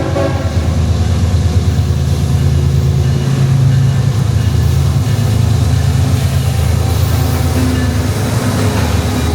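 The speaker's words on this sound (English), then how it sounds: "CSX southbound manifest train runs on track 2 through the station, led by ES44AH number 3203 and CW44AC number 303." CSX southbound manifest freight train led by an ES44AH and a CW44AC locomotive passing through a station, a loud, close, continuous low rumble and roll of wheels and engines throughout.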